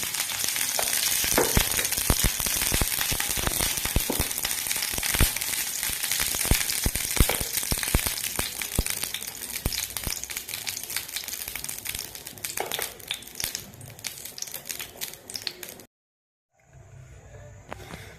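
Ghee sizzling steadily in a pot on a stove while making milk thalikalu, with dense crackling and frequent sharp pops throughout; the frying noise cuts out abruptly near the end, then returns more quietly for a moment.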